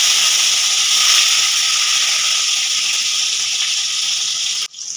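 Chopped tomato dropped into hot oil already used for frying prawns and potatoes, with whole cumin seeds tempering, gives a loud, steady, close sizzling hiss that holds throughout and then dips sharply at the end.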